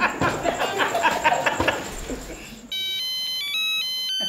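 Chatter and a brief chuckle give way to a loud electronic ringtone playing a looping, stepwise melody that keeps ringing.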